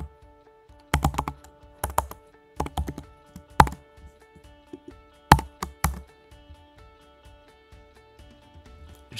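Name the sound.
typing code on a computer keyboard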